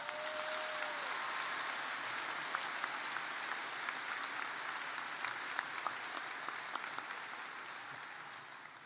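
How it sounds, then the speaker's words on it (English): A high school graduation audience applauds the assistant principals, a dense, sustained wash of clapping from a large crowd in a big hall, steady throughout with no speech over it. "Let's give them all a round of applause"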